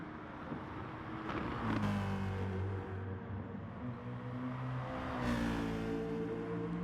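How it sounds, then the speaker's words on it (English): Racing car engine in a sim racing video game, likely a Citroen, droning and revving with rising and falling pitch, two stronger surges, steady and moderately loud with no voices. "Very powerful car, that."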